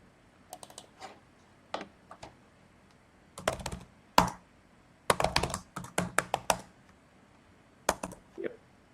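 Bursts of fast clicking keystrokes on a computer keyboard, close and crisp, with short pauses between runs and no talk.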